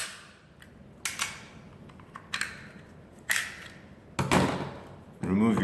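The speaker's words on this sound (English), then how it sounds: "Remove your slide." A Glock 21 pistol's slide is worked and removed, heard as a series of close, sharp metallic clacks and slides spaced about a second apart, each ringing briefly, with a final rattling clatter.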